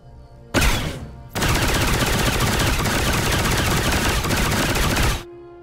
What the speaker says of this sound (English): the Scout's Sniper Rifle is a very easy pick